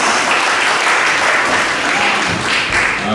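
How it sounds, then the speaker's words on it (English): A school summer celebration audience gives Year 5 students a loud, dense round of applause that holds steady and continuous throughout, with no voices standing out. "Massive round of applause, and you can head back to your seats."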